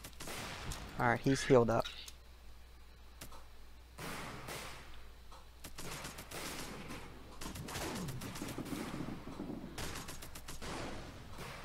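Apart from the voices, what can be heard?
gunfire from units focusing fire, video game REDCON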